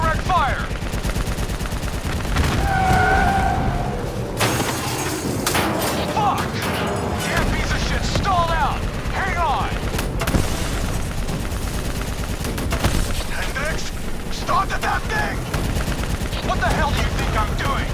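Call of Duty Black Ops 3 gunfire rattles through a dense in-game battle: sustained automatic bursts and scattered shots, loud and close, mixed with booms, thuds, game music and shouted voices.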